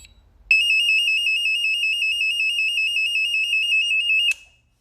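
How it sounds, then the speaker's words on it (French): A steady electronic alarm beeps continuously for nearly four seconds, a bright, loud, rapidly pulsing tone that starts abruptly and cuts off just as sharply, with a faint click at the end and near silence around it. "Et ça, c'est l'alarme."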